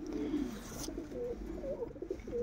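Racing pigeons coo in a loft, with soft, repeated throaty rolling calls close by at moderate volume and no one speaking.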